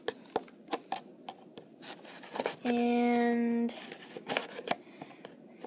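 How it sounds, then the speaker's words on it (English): Large scissors cut a small piece of tape: a series of crisp, close snips and clicks, broken by a brief steady sustained sound midway, with a voice speaking briefly. "these scissors are too thick for that mini piece of tape."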